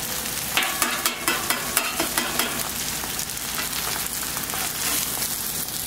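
Eggs fry on a Camp Chef flat top griddle with a loud, steady sizzle, broken by several sharp scraping clicks of a spatula in the first few seconds.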